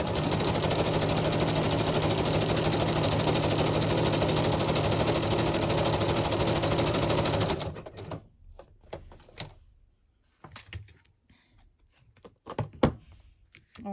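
Sewing machine stitching a journal page pocket, a loud continuous whirring hum for about seven seconds, then stopping, followed by scattered paper handling clicks and rustles.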